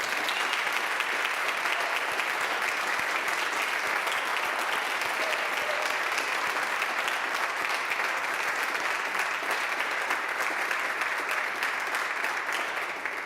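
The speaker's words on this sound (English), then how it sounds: "Would you join me in a round of applause for these two?" Sustained audience applause for two composers at a music event, dense and steady throughout, loud and unbroken with no talk over it.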